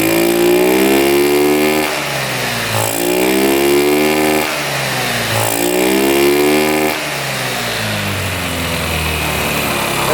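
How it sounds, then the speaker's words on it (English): A small scooter engine with the air box removed and fuel spraying from the carburetor revs hard in repeated rising and falling surges, loud and close, settling into a rough idle. "right now it's revving out completely with the air box off"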